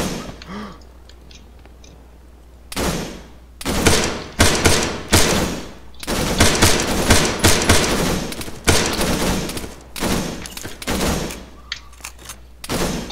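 Gunfire in Arma 3 during a co-op airfield attack, with loud sharp shots and rapid bursts coming in clusters after a quiet opening and carrying on to the end.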